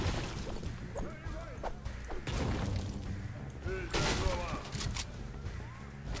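Rapid gunfire in a Fortnite duo squads match, bursts of shots crackling under a player's continuous chatter and other game sounds.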